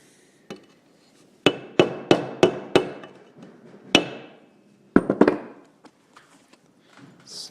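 A hammer pounds on a part of a Briggs and Stratton engine during a teardown: a single tap, then a quick series of five sharp strikes, another blow, and a final cluster of three or four, close and loud with no talk.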